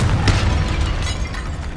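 A Confringo spell blast in Hogwarts Legacy, a loud booming explosion with a sharp burst near the start, then a rumbling low-end tail that stays heavy for under two seconds.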